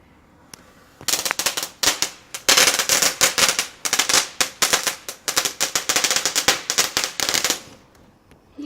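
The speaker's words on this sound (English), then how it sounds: "there's fireworks going on in my next door neighbor's house, and we're going to watch them. They'll be going off right now." Bonfire night fireworks in a neighbouring garden, a long, rapid crackling barrage of loud pops and bangs, like a firecracker string, that starts suddenly and dies away near the end.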